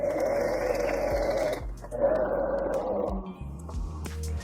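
A domestic sewing machine stitches the seams of a women's parka, running in two steady, close bursts of mechanical whirring with a short pause between them and then a few lighter clicks at the end.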